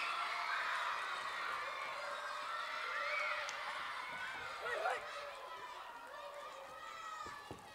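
Children's audience at a fifth-grade Christmas chapel cheering on a present-opening race, a continuous wash of excited young voices and shouts with shuffling movement, held at moderate distance.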